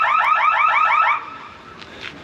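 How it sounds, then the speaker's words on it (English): A car alarm next door blares a rapid warbling siren for about a second, repeating its rising chirps, then cuts off abruptly, leaving quiet room tone with a faint distant tone afterward. "the guys next door are setting their alarm off"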